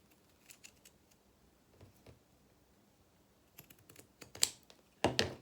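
Scissors snipping the triangle tips off sewn fabric for a stuffed cat, a few quiet, sharp, close-up snips and clicks spread unevenly across the clip, with the last few louder, in an otherwise hushed room.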